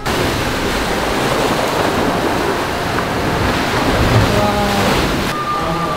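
Sea waves wash against the rocks at a tiny beach, a steady loud rushing surf mixed with wind buffeting the microphone, with no voices.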